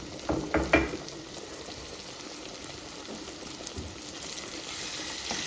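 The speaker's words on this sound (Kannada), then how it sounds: "ಕ್ಯಾಪ್ಸಿಕಮ್ ಸ್ವಲ್ಪ ಫ್ರೈ ಆದಮೇಲೆ ಟೊಮೆಟೊ ಹಾಕ್ಕೊಳ್ತಾ ಇದ್ದೀನಿ" Chopped capsicum frying in a pan for pasta, a steady hiss of sizzling oil with a few brief stirring clatters near the start.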